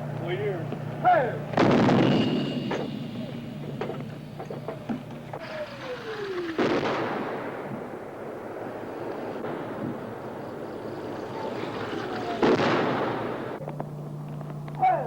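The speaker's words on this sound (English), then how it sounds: "protective artillery is called in" Protective artillery fire during the Vietnam War, heard as several heavy booming blasts spaced seconds apart, each followed by a long rumbling roll, loud and distant in an outdoor field setting.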